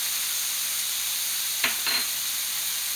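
Black beans with chili powder going into a hot pan on the stove, giving a brief burst of sizzle and stirring clatter over a steady background hiss, near and fairly quiet.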